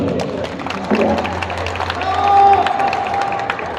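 Spectators at an arm wrestling match between Dursun Fatih Çepel and Emrah Okçu clap and cheer in an echoing hall, the crowd noise rising and falling, with a voice talking over it.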